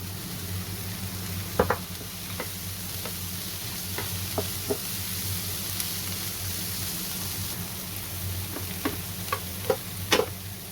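Chopped peppers sizzling and frying in a hot pan with scattered stirring clicks and taps from a utensil, a steady close hiss underneath, no talking.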